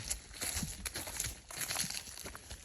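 Soft crunching footsteps on a trail, steady walking rhythm, close by, with faint birds in the outdoor background on a 54-degree morning.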